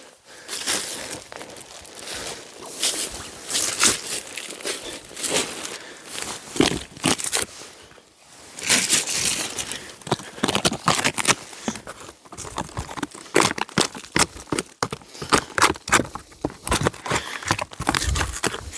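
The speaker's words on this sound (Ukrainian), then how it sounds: "Тут щось не обдирається ще не полежала, стільки скільки треба ще ще жива." Birch bark is peeled by hand from a tree in a forest, producing repeated close crackling, tearing and crinkling bursts in irregular rhythm, with a brief pause midway.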